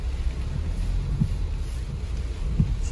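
Wind gusting outdoors at night near a guard's post, a steady low rumble of buffeting against the microphone with a few brief louder gusts, no voices.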